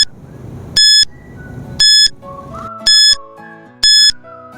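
A quiz countdown timer gives four loud, evenly spaced electronic beeps about a second apart over soft background music.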